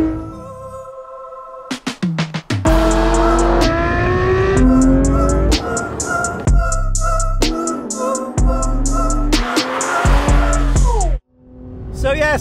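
A Porsche GT3 RS sports car's engine revs loud and close in repeated sharp climbs through the gears, with brief lifts between pulls and a final drop to idle.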